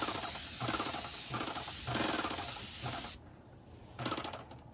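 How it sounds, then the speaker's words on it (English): Paint sprayer coating a cabinet, a loud, steady close hiss pulsing with each pass, then cutting off briefly before a short final burst of spray. "Once you're done spraying it, be done with it."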